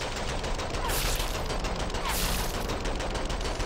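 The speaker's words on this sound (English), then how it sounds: "Sexy shooting right here." Gunfire in the zombie shooter Zombie Army 4 fires in quick, dense bursts that keep going through the whole stretch, loud and close.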